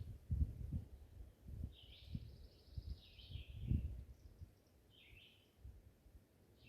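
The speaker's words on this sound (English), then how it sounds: "Probably you can hear some of the birds singing." Birds chirp faintly in a forest, with short high calls recurring over low rustling and handling noise, distant and quiet throughout.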